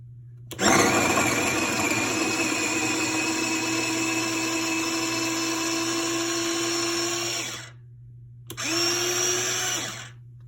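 A small electric chopper minces garlic with a loud, steady high-pitched whirring buzz for about seven seconds, stops briefly, then runs again in a shorter burst.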